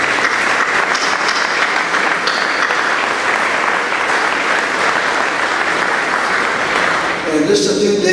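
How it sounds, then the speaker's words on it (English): Loud, dense applause fills the hall at an alumni banquet, continuous clapping from a large crowd that holds strong before tapering near the end as a voice begins over it. "Let's give them a round of applause."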